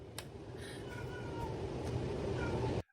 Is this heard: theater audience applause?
no